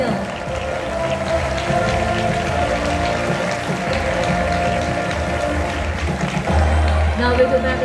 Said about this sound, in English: Let's give a big hand of applause for the winner.